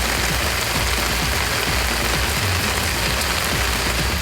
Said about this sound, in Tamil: இரவிலும் மழை வெளுத்து வாங்கியது.